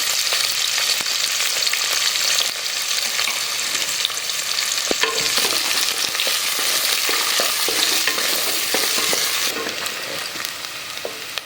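Onions and chana dal frying in a pan. An intense, unbroken hiss and sizzle runs throughout, with occasional stirring clatter close by.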